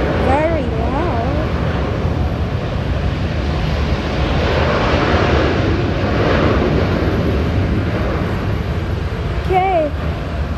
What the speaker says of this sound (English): Here's the 787-9 takeoff to Johannesburg,